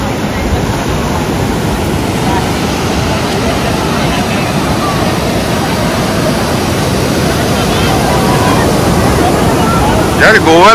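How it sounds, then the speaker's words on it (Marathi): Rough sea waves break on a beach in Goa, a loud, dense roar of surf that carries without pause, with a brief rustle near the end. "आणि पाणी लय खवळलेलं आहे."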